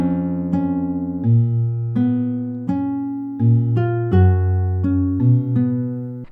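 A synthesized melody, a guess at Deltarune's lake song in 3/4 time, plays in clear, loud tones. Sustained bass notes and a moving upper line change pitch about every half second to second, with no voice.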